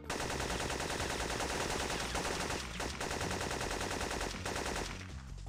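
Sustained rapid gunfire in the video game Syphon Filter, dense automatic bursts filling the whole stretch with brief dips, loud and continuous.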